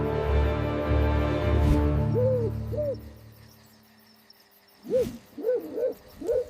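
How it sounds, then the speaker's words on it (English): An owl hoots in a wild morning setting, two soft hoots followed by a cluster of several quicker calls, moderately near, over a faint steady background hum. "It's an owl."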